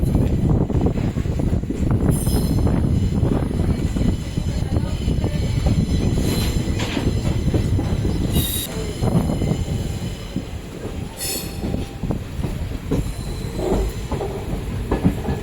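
The Seshadri Express, train no. 17209, runs on a long journey from Bangalore to Kakinada. Steady rumbling rail noise continues under high wheel squeals that rise several times. Heard from on board, with no talk.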